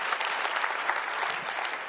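Dense, steady applause from a keynote audience at a public-interest tech talk, a continuous wash of many hands clapping at even loudness throughout, with no voices over it.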